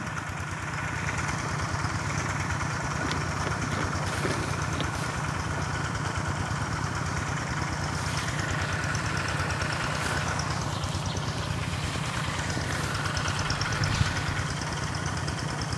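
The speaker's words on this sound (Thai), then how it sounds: "มีเขาสูบน้ำออกจากนามาด้วยนะครับ" A pump engine drawing water out of a rice field, a steady mid-pitched mechanical drone with a regular chugging pulse that continues unchanged, heard outdoors at moderate distance.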